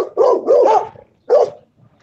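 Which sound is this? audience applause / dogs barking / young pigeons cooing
dogs barking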